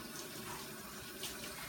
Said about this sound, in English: You will now rinse your hands.